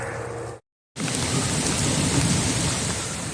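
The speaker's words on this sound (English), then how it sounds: "Still raining, as you can tell." Rain falls steadily on the Appalachian Trail near Harriman State Park, a dense, close wash of patter that cuts out briefly and then returns louder, with no voices.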